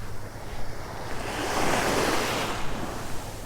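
Surf washing onto a beach during a flounder fishing trip, a steady broad roar that swells toward the middle as a wave breaks, with light wind noise over the microphone.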